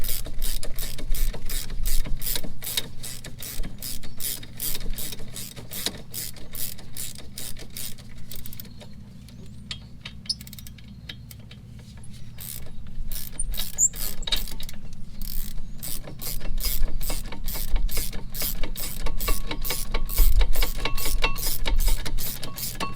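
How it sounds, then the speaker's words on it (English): A ratchet clicks rapidly and rhythmically, close by, as 15 mm brake bracket bolts come off a Buick Lucerne, with a short pause midway before the clicking resumes. "you can switch over to your ratchet and go ahead and take these 15s out."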